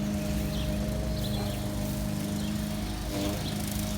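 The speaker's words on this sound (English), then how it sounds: "Of course, the neighbor starts mowing." A neighbor's lawn mower drones steadily throughout at a moderate distance, with faint outdoor background noise.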